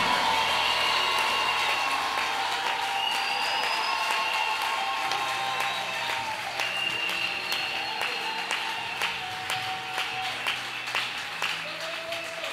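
A church congregation applauding to acclaim the king, sustained, dense clapping from a large room full of people, steady throughout and slowly easing toward the end.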